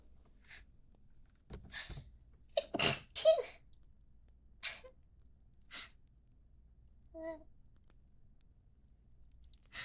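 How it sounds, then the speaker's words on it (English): A single close, sharp sneeze with an intake of breath before it, followed by softer breaths, sniffs and small mouth sounds in an otherwise quiet space. "Sneeze."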